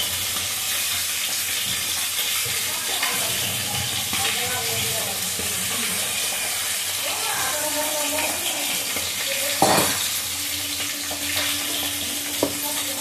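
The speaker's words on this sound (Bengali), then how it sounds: "দেখো মাছটা ভাজা হয়ে গেছে" Fish frying in a pan of oil in a home kitchen, a steady close sizzle and crackle throughout with a few clinks and stirring knocks, no talk.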